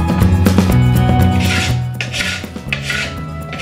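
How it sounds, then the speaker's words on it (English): A knife cutting away excess, not fully cured epoxy during a catamaran build, heard as close, repeated scraping and rasping strokes with uneven rhythm. "I cut away the excess epoxy with a knife before it has fully cured."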